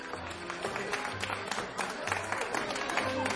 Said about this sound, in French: les applaudissements du public un peu mochés, mais emballés tout de même, de crépiter